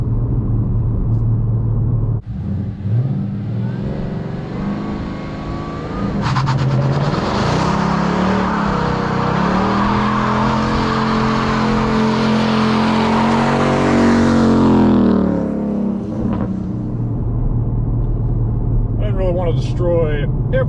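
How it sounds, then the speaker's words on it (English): A 2015 Ford Mustang S550 revs hard into a tire burnout, its engine roaring steadily for several seconds with tires squealing, then settling back before voices talk near the end. "I think it's safe to say it does a pretty good burnout"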